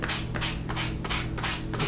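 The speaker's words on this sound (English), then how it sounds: "just sanding these edges" Rhythmic back-and-forth sanding strokes on glued leather edges of a passport cover, about five in quick succession, close and steady with a scratchy rasp.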